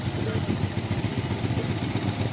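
A Honda Wave 100 motorcycle engine with a stock carburetor replacement runs steadily during carburetor tuning, a close, continuous mid-pitched idle with a busy mechanical clatter and no speech.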